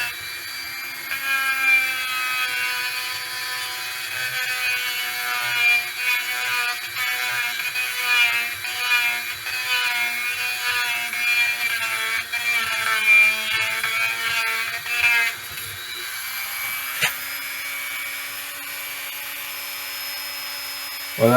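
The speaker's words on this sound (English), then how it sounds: "this little Dremel just trying to clean up the sides of that, where that bearing goes down there" A small Dremel rotary tool grinds rust from the bearing seat inside a Ford 3000 tractor steering column, a steady high-pitched whine with harmonic buzz and slight load changes, running close and loud for about fifteen seconds before spinning down.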